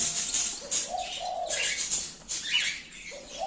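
Zebra finch calling in short nasal chirps and tweets, several bright calls spaced irregularly, close and fairly faint with no talk.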